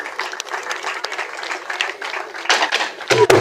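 Audience applause at a district partner awards ceremony, moderate and uneven with scattered claps, swelling louder toward the end, with some talk mixed in.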